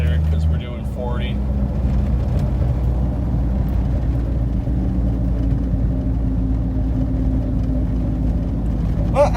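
A 1982 Ford F-150 pickup cruising in third gear at about 40, its engine a steady loud low rumble with road and wind noise from inside the cab and brief speech at the start.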